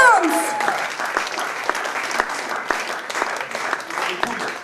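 An audience bursts into applause to cheer on a performer, steady dense clapping from start to finish with a voice speaking over it.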